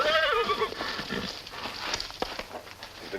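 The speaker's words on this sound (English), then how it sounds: "A horse coming." A horse approaches in a western radio drama scene, opening with a brief whinny followed by soft, uneven hoof clatter, moderately faint and without talk.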